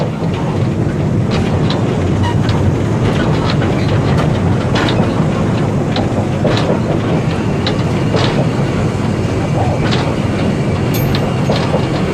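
The steam locomotive Oliver Cromwell running at speed with a constant loud rumble and rhythmic clicking of wheels over rail joints, heavy wind buffeting throughout, heard from aboard.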